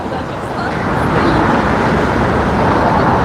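Street traffic outdoors on a windy day: a dense, continuous roar of passing cars blending with strong wind buffeting, loud and steady throughout with no distinct voices standing out.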